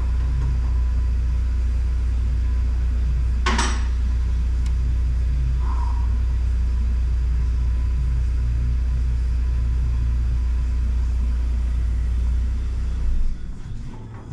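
A Volvo V40 1.5 T2 with a low fuel pressure fault idles with a loud, steady low rumble for several seconds, then the engine abruptly cuts out near the end and the rumble dies away.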